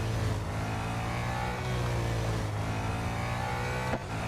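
A race car engine in the racing video game Real Racing 3 revs steadily, with rising and falling gear tones, loud and close, a brief gear change near the end, no talk.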